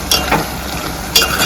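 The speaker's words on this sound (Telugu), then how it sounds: "ఒకసారి తిప్పుకుందాం" Mutton and cucumber curry gets stirred in a pan, two short scraping strokes of a spoon over a soft, steady sizzle, close and fairly loud.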